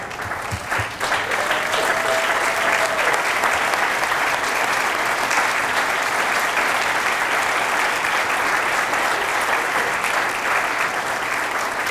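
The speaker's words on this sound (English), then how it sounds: "You're all getting some very healthy and well-deserved applause right now" An audience at a leaders-and-achievers awards event applauds winning students, dense sustained clapping that stays full and even throughout, loud and close with a faint murmur of crowd voices underneath.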